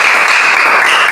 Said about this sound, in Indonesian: Jadi tepuk tangan untuk semua dulu.